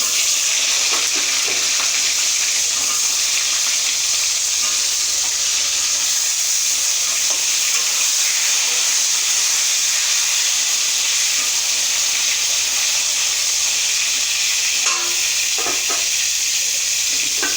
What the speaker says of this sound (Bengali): লাল লাল করে পটলটাকে ভেজে নেব।